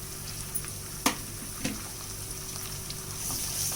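Tomatoes added to frying onions in a pan for tomato rice, a low steady sizzle with a couple of brief spoon clinks as they are stirred, close but fairly quiet, no talking.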